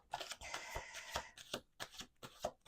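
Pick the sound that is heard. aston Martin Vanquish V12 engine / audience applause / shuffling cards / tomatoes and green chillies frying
shuffling cards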